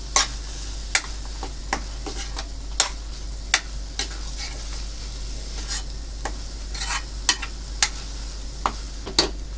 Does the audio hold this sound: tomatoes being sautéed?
yes